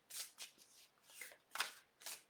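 Oracle cards riffled and shuffled by hand in several quick bursts, crisp papery flutters close up, each lasting a fraction of a second with short pauses between.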